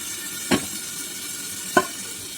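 Food sautéing in a pan while making biryani with seeraga samba rice, a steady soft sizzle running throughout with two brief metallic clinks of stirring, alone without talk.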